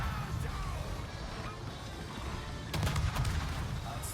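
Warship main guns fire in World of Warships from the destroyer Kiev, heavy booming salvos rolling over a constant rumble of engines and sea, with a cluster of sharper blasts toward the end.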